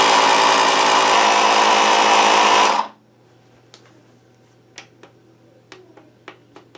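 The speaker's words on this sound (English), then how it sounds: "put some more air in. Okay, I have my pump set at 35 psi." An electric pump inflating the tire on a Gotway Monster electric unicycle wheel buzzes loudly and steadily for about three seconds, then stops, followed by a faint hum and scattered small clicks.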